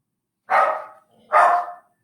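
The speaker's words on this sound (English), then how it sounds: "puppies," Two separate barks from a puppy, fairly close and loud, each about a third of a second long with a short gap between them, and no other sound around them.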